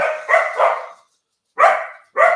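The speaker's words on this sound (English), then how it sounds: "Pardon me for my dogs, the security." Pet dogs kept as home security barking indoors, a run of close, loud barks followed by a brief pause and then two more sharp barks.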